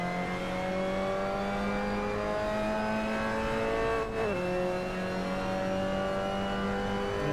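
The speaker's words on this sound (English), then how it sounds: "Despite these rough downshifts, looks like the gearbox is going to hold together." A Mazda MX5 race car in a racing sim holds a steady engine drone that dips and wavers mid-clip as the driver makes rough downshifts, then settles back to a constant tone; no voices.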